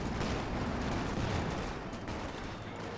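Rifle and machine-gun fire from the Company of Heroes 2 video game crackles in dense, continuous bursts, with an American rifle squad firing from cover against grenadiers in a 2v2 match on Elst Outskirts.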